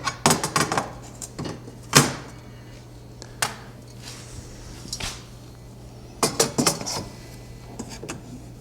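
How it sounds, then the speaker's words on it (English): A laser bed being fitted into a WeCreat Vision Pro 45-watt laser engraver, with sharp metallic clanks and knocks in separated bursts, close and fairly loud, with quiet gaps between them. "Let's open it up and put the laser bed in."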